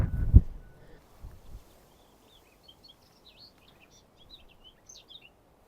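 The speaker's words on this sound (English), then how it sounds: "Probably heard that blackcap." A blackcap sings a faint, quick run of high warbling notes in the distance on the Isle of Wight in early May, after a few close footsteps or knocks at the start.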